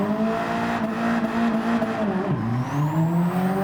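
A race car in Gran Turismo 7 drifts through a corner, the engine holding a high, strained whine, then dipping and climbing again as it slides, with a thin tire squeal over the top.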